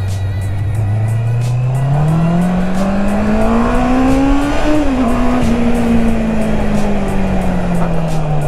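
A motorcycle engine drones loudly and steadily, its pitch climbing as it revs up, then easing slightly while holding a constant roar.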